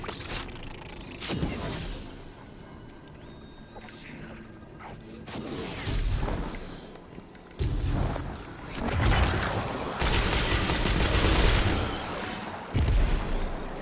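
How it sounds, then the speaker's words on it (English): Booming explosions and bursts of gunfire from Destiny 2 gameplay, arriving in loud irregular blasts with mechanical clatter and rumbling between them. "Sorry, I'm hearing a bomb."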